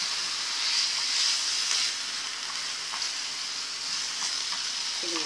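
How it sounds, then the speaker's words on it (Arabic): Potatoes fry in a hot pan for an Egyptian potato omelette, giving a steady sizzling hiss while a utensil stirs them in a few light scraping turns. "هنزل عليها بالبطاطس وهقلبها معاها كده"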